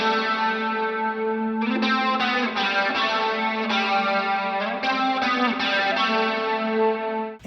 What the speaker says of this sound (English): But for this one, I kicked on a Rat style distortion